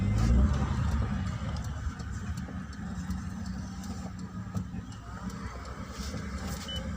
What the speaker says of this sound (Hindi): तो देखा जाए बाबूजी अपनी कार को कैसे निकालेंगे